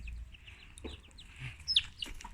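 A broody hen, just off her nest and refusing to sit, gives soft, scattered clucks on a farm, with a brighter squawk near the end and faint background chirps.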